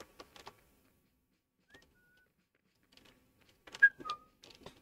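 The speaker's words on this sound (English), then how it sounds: "I heard that. Who's whistling at me?" A short whistled tune sounds in the toy-themed video game Attack on Toys, two brief whistle phrases heard faintly apart and then louder near the end amid light clicks and game sounds.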